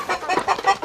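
Rhode Island Red roosters, three of them fighting in a farm pen, give short, close clucks and squawks in quick bursts.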